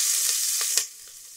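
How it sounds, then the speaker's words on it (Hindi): Onions and green chilies are sautéed in a pan after a pinch of asafoetida for chole. A brief hissing fry sounds up close, with a few quick stirring scrapes before it drops away to near quiet. "प्याज डाल के इसको थोड़ा सॉटे कर लेंगे।"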